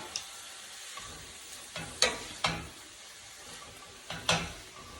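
Onions and sweet peppers go into a hot pan for caramelizing, a faint steady sizzle underneath with several sharp clanks and taps of a utensil against the pan.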